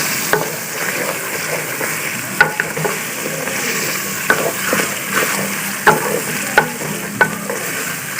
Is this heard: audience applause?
no